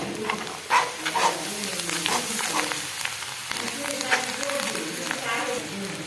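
Spices sizzle and are stirred in hot oil in a pan for a chickpea curry, a steady close frying hiss with scraping stirs throughout.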